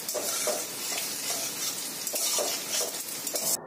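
Chopped onion and garlic crackle and sizzle steadily in a hot pan for a fish roe omelette curry, a dense continuous hiss with small bursts of popping and a few faint stirring scrapes.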